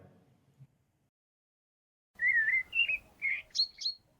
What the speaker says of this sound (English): You can hear the morning bird song as you open your eyes to start your day.